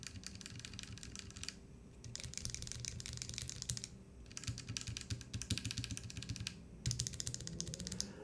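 Typing on a brass Teton 78 prototype mechanical keyboard, with quick bursts of dense, close, clacky keystrokes separated by short pauses, quiet and with no talking.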